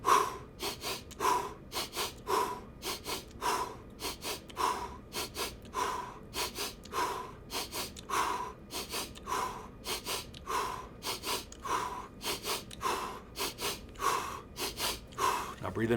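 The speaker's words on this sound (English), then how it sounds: "Go ahead and start with breathing into the nose." Rhythmic breathing through the nose during a guided breathing exercise, a steady series of close, sharp inhales and exhales repeating roughly every second, alone and clearly audible.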